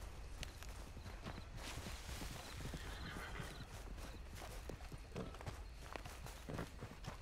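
Horse hooves during riding in Red Dead Redemption 2, a steady quick clip-clop of galloping over the ground, continuous and fairly close, with no talk.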